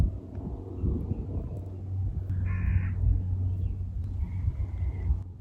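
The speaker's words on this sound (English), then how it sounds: "there's crows just screaming as well." Crows caw a few times in the distance over steady low wind rumble outdoors near sheep, with a faint animal call partway through.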